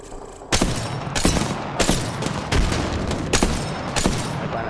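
Sustained automatic gunfire in the console shooter Apex Legends, loud and close, coming in repeated bursts roughly every half second to second over the whole stretch, with no talking.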